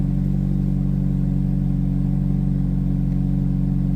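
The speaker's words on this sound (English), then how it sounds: "Good thing too is, as you see, it's idling high." A car engine idles high after an oil change, with a steady, high-pitched hum and a faint clatter, holding constant and loud throughout with no change in speed.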